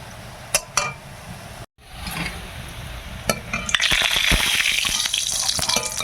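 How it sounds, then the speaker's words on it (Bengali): Khesari lentil fritters fry in hot oil, with a few clinks and scrapes of a spoon early on before a loud, steady sizzle swells up and continues close by. "বড়াগুলো ভাজা হয়ে গেছে বা তুলে নিই"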